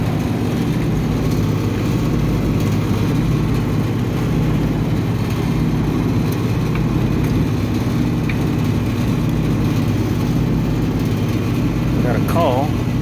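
An old Goodman HVAC unit with multiple faults runs rough, a loud, constant low mechanical drone and hum without letup, with someone talking over it.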